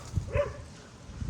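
A dog barks twice, short and faint, somewhere near the speaker outdoors, followed by a quieter low bark or two near the end.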